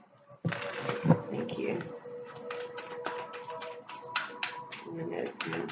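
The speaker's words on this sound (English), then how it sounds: "I'm going to shuffle actually to reset the energy of the deck." A tarot card deck is shuffled close up, giving a steady run of rapid riffling and flicking card sounds with a brief spoken word near the start.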